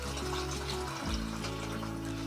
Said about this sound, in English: And then I'll pour some more in there.